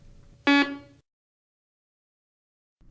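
A Garrett PD6500i walk-through metal detector gives one short, loud harmonic buzz when it is switched on. Near-silence follows.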